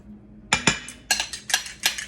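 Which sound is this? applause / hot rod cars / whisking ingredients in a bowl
whisking ingredients in a bowl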